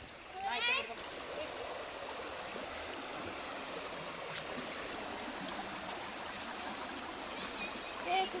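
Water flows steadily in a village stream swollen by rising water, a faint, even rushing, with brief splashy bursts near the start and end.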